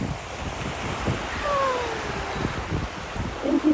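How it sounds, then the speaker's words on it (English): Sea surf washes against the shore in a soft continuous rush, with wind buffeting the microphone and no voices. "Look at the sea really quick."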